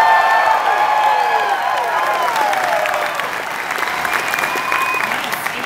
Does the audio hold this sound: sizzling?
no